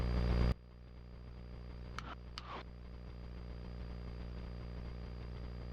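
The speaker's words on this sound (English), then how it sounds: "It still takes a little while for the engine to warm up" A warming RV6 airplane engine idles steadily at a moderate distance, a constant low drone with faint engine harmonics, after a brief louder burst at the start.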